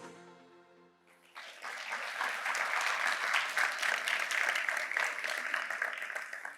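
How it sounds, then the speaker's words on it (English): At a University of Michigan Health Rogel Cancer Center gala, an audience breaks into sustained applause after a brief spoken moment, the clapping swelling quickly and holding at an even, full level. "Another round of applause, please."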